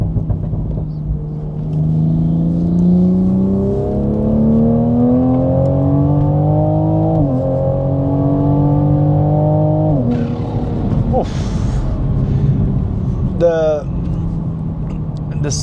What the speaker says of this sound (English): The sounds of a combustion engine, and then when you come off hearing those armor speed intakes